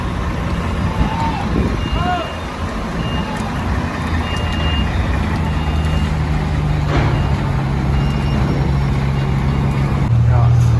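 A truck carrying a new bulldozer reverses at Merak port with repeating reversing beeps over a loud, constant diesel rumble, amid busy harbour traffic.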